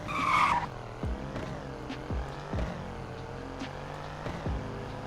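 A Mercedes-Benz GLS 63 or Audi RSQ8 SUV launching 0 to 100 in third gear with traction control off, opening with a loud burst of tire squeal, then a strained engine rising through repeated gear-change dips, heard from inside.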